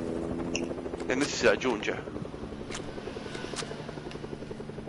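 Helicopter rotor chop in a squad-based shooter video game, a steady rhythmic whir running under close, excited speech from players.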